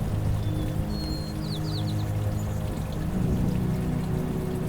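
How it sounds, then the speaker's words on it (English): Water trickles and splashes steadily in an urban stream, with a few high bird chirps briefly over the flowing sound and a faint low hum behind. "hearing the trickle of the water right there in the urban area"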